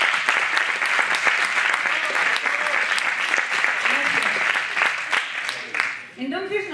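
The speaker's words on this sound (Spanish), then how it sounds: "un aplauso por su sinceridad" An audience at a creativity workshop breaks into steady clapping that thins out toward the end, where a voice starts speaking.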